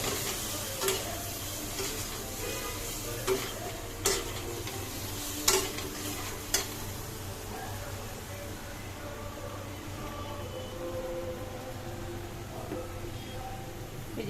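Turmeric, chilli, salt, cumin and coriander powders get stir-fried in a pan for a duck-egg korma, giving a steady low sizzle with scattered scraping clicks of a spatula against the pan.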